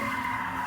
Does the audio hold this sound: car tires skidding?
yes